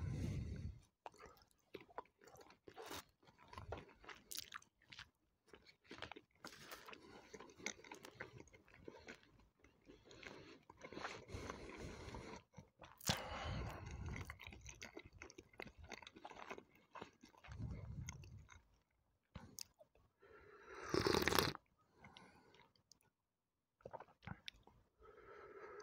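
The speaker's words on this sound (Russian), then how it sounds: "Вот так сосиски кушаешь с кетчупчиком." Close-up ASMR eating of sausages with ketchup, with tea to drink: continuous soft, wet chewing and squishy mouth sounds, with a brief louder bite or sip near the end.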